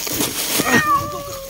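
A cat outdoors, among many others nearby, gives one drawn-out meow close by, while people talk over it.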